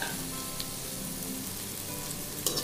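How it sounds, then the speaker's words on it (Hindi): Capsicum sautés with onions in a kadai for a kadai paneer dish, giving a steady, close sizzle and crackle with a soft scrape of stirring near the end and no voices. "और कैप्सिकम को भी थोड़ा सा सोते कर लेंगे"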